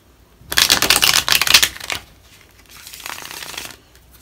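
A deck of tarot cards shuffled by hand up close, one burst of dense rapid riffling followed by a quieter second shuffle, with no speech.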